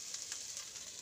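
Chicken pieces stirred and frying in a pan for fried rice, a steady hissing sizzle with faint scraping pulses, brief and even.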